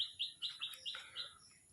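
Small birds chirp in a pigeon house where pigeons and young chicks are kept, a run of quick high tweets and calls close by with no talking.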